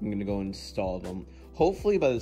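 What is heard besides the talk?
No everyday noises stand out.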